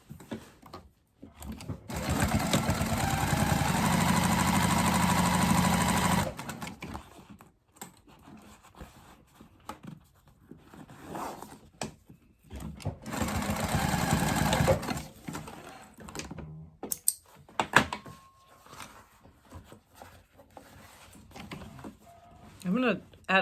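A sewing machine top-stitches a crossbody bag's lining and exterior together in two long, steady bursts of fast mechanical stitching, close and clear, separated by quieter handling sounds.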